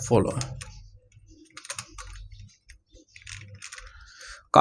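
Keyboard keys clicked in short bursts while typing a search on an add-plugins page, close and fairly quiet, with someone talking over much of it.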